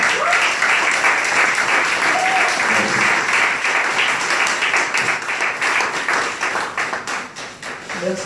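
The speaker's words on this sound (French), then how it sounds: "Vous n'avez pas beaucoup applaudi, hein?" Audience applause following a poem recital at an event honoring a priest, loud, dense clapping filling the whole stretch and tapering slightly toward the end.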